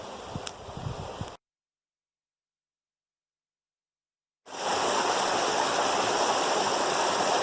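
Water rushing down a rock slide in a deep canyon, a steady full roar close by that cuts out and returns, no voices.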